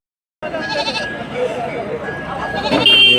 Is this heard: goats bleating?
yes